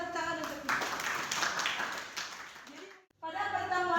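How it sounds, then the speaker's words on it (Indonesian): Classroom clapping in a lesson on Islamic preaching, a short burst of hand claps from students over a few seconds, cut off briefly before voices resume; talk runs through it. "Kasih tepuk tangan untuk kita."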